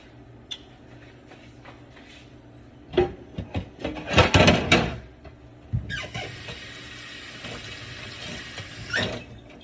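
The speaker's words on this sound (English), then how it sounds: "rinse the tablespoon" Water runs from a tap over a tablespoon in a sink, rising to loud splashing bursts in the middle and then settling into a steady, hissing flow, heard up close with no talk.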